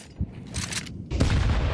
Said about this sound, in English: timing on that nade, X5 basically ate it